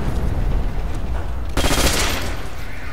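FG-42 rifle fire in a Nacht der Untoten zombies game: a continuous rattle of close gunshots that swells into a loud, dense automatic burst midway and carries on to the end.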